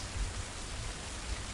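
Steady rain falling on a bridge in a video game, a constant hiss of fine drops with soft low patter, moderate and unbroken throughout.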